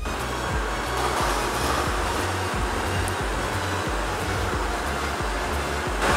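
A robot vacuum cleaner, steered by remote control, runs with a steady close whirring motor and suction hum that holds through the whole stretch with no talking.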